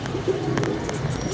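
Pigeons coo nearby in soft, low rolling calls, a short burst of throaty bird murmuring over faint background noise.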